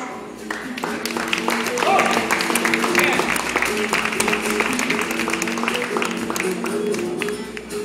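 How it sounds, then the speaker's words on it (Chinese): Audience applause in a Taipei venue for a Glenlivet event, greeting the brand ambassador Matt; steady clapping sustained for about eight seconds over background music. "我们接下来是不是请大家用最热情的掌声来欢迎格兰利威品牌大使 Mr. Matt。"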